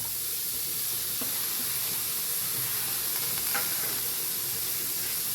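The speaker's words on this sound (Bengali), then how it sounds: "এবার বিট এই গাজর এই যে আলু গ্রেট করে নিয়েছি সব কিছু আমি দিয়ে দেবো" Grated beetroot, carrot and potato fry in a pan with a steady, close sizzle, along with a few light scrapes and stirs.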